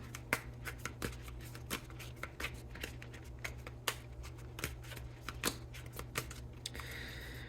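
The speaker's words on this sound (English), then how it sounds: "we're going to pull 2 cards from this deck" A tarot deck is handled and cards are drawn at a reading, giving a quick series of soft, close flicks and slides of cardstock in an irregular rhythm over a low steady hum.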